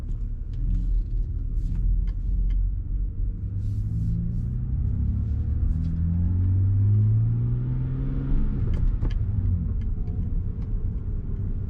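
A BMW E90 328i fitted with an upgraded aftermarket exhaust drives along with a steady, deep engine rumble that rises as it revs and accelerates, loud and continuous throughout with no talking.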